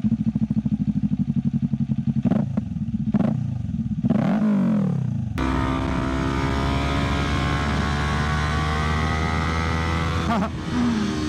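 A 2018 Kawasaki Ninja 400 motorcycle under way, starting with a rapid idle-like putter and rising revs, then a loud sustained engine drone climbing in pitch while riding, with a brief gear-change dip near the end.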